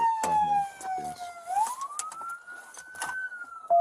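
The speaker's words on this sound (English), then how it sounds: "Kill your siren." A police car siren wails on bodycam footage, its pitch sliding down and then sweeping back up in a slow, steady tone, loud and close, with brief bursts of other noise around it.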